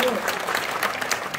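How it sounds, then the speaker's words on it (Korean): A round of applause from a crowd at a badminton club anniversary ceremony, steady clapping filling the room from start to finish. "앞으로 잘해주시라고 박수 한번 쳐주세요"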